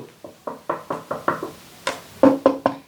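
A quick run of close, resonant knocks on a solid wood speaker cabinet of dry, 20-year-old wood, about a dozen raps in uneven rhythm, growing louder and fuller toward the end.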